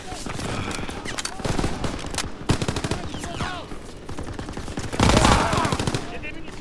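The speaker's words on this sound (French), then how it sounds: "Mitrailleuse dans l'escalier." Machine gun fire in a French-language squad shooter game, with rapid bursts of automatic shots and an explosion-like roar near the end, under ongoing game sounds.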